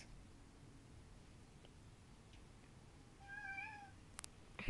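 After a quiet stretch with faint ticks, a cat lets out one short wavering meow, followed by two brief sharp taps.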